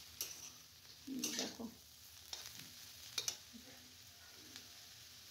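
Shredded cabbage stirred and fried in a pan with salt, giving soft sizzling and scraping bursts of a spatula, close and fairly quiet, with a brief spoken word.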